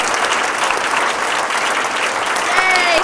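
An audience claps steadily through an awards session at the 2018 Iowa State University Water Conference, with dense, even applause throughout and faint voices mixed in.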